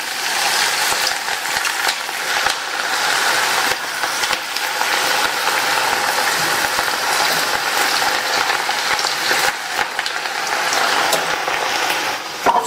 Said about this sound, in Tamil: நம்ம ரெடி பண்ணி வச்சதை கொஞ்சம் கொஞ்சமாக எடுத்து இந்த மாதிரி எண்ணெயில் சேர்த்துடலாம்.